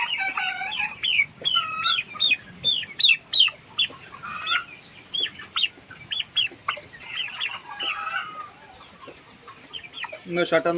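Chickens on a poultry farm cluck and squawk in repeated close bursts, many birds calling over one another with brief pauses, while a person talks at times.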